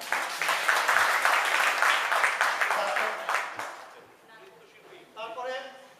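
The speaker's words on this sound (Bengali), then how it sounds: "সবাইকে আপনাদের পক্ষ থেকে করতালি দিয়ে তাদেরকে অভিনন্দিত করলে খুশি হব" Applause from the audience at a Udichi School cultural program in New York, honoring the tabla accompanists: dense, steady clapping for about three and a half seconds that then thins and fades while a voice begins speaking.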